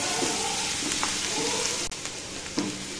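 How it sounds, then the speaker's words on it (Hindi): Finely chopped onions fry in hot oil, a loud, continuous close sizzle with occasional stirring scrapes over the crackle. "ये प्याज जो आप भून रहे हो इसे एकदम बारीक सा कट करें"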